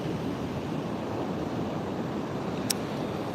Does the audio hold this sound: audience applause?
no